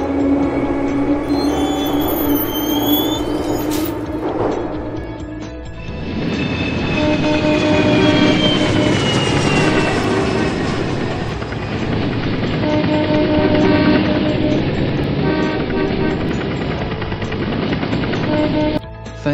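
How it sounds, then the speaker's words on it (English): A subway train rumbles loudly past, a steady roar of wheels and motors with whining tones that swell to a peak midway and hold, nearby and continuous, ending abruptly. "Subway."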